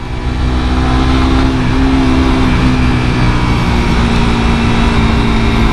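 A 2017 Suzuki GSX R150 sport bike engine runs loudly and steadily up close, a continuous drone with a slight pitch wobble midway and no voices.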